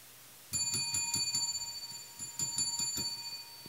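A bright bell rings in sharp repeated strikes, each ping lingering with a metallic shimmer, loud and close with a brief gap midway and no speech.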